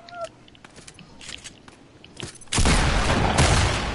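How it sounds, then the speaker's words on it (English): Gunfire in an online shooter video game: faint footsteps and scattered small sounds, then a sudden loud, sustained burst of rapid shots that fills the last second and a half. "I'm gonna shoot him."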